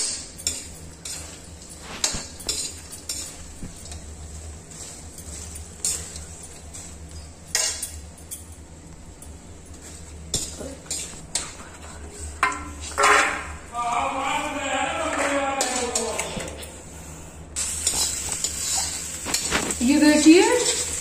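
Fried fox nuts (makhana) lifted out of a pan of ghee with a metal spoon, giving light scrapes and clinks of metal on the pan, then louder clatter and a rising sizzle toward the end.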